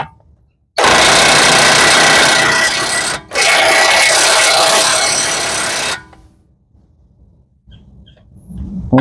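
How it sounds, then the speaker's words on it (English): Impact wrench hammering on a 36 mm axle nut of a 2015-2020 Chevy Traverse, a loud continuous rattling burst of about two and a half seconds, a brief pause, then a second long burst, followed by quiet. "36 millimeter axle nut. I'm going to put it on my impact"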